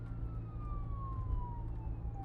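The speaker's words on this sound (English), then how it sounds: "Sirens. I hear them." Far-off sirens in a radio drama, a single long wailing tone sliding slowly downward over a steady low rumble of a moving car, with no talk.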